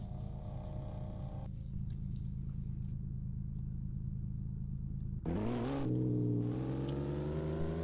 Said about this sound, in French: C'est parti, petite accélération.